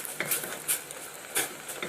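Warm milk being stirred into a roux in a pan for baked macaroni and cheese, with light utensil clinks and scraping against the pan, a few brief sharper taps over a soft, quiet background.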